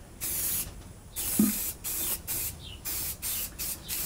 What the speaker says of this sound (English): I'm gonna put probably 4 or 5 coats of primer.